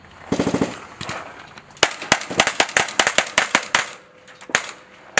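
Military automatic gunfire during a Talisman Sabre training exercise attack on an airfield at Bowen: an opening rapid burst, then a long series of sharp, loud, irregular shots and short bursts crackling outdoors without any voices.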